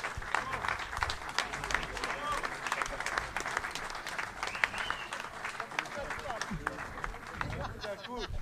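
Audience applause at a plenary session: a sustained, dense patter of many hands clapping in a hall, steady and moderately loud with faint crowd murmur beneath.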